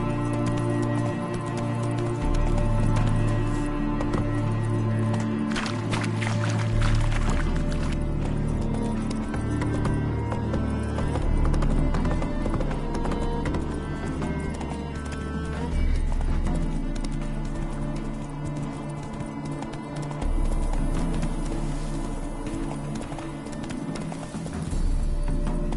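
Roach, a horse in The Witcher 3 game, gallops with rhythmic hoofbeats under loud continuous game music and ambient sound, with occasional voice lines.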